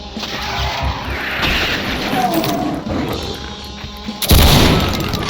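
Dense, loud in-game combat noise from Doom, with a Baron of Hell fighting amid booming blasts and crashes in a continuous roar. A heavy impact near the end swells the din.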